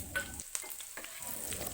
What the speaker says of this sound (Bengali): আদা ও রসুন কুচিটা প্রায় লাল লাল করে ভাজা হয়ে এলে আমরা দিয়ে দেব আগে থেকে কুচি রাখা লঙ্কাগুলি